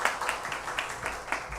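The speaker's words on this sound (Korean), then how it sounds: "귀한 찬양 들려주신 우리 합창단에게 박수 한번 보내드리도록 하겠습니다" Congregation applauding a choir after a hymn at a university chapel service, steady dense hand clapping at moderate distance with no voices over it.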